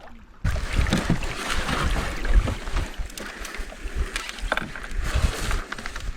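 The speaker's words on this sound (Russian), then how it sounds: "Я подгребаю." Oars splash and churn through water in uneven strokes as a boat is rowed, with wind buffeting the microphone and no talking.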